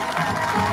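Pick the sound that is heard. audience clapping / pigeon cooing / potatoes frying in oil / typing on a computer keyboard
audience clapping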